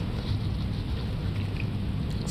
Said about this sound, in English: Fucking raining.